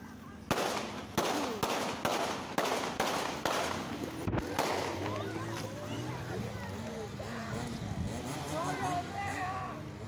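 A rapid series of sharp gunshots rings out at a street shooting from a motorcycle, about eight loud cracks in quick succession, followed by a jumble of voices and commotion.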